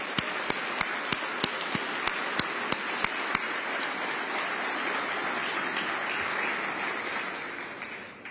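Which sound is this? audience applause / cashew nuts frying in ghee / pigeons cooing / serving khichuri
audience applause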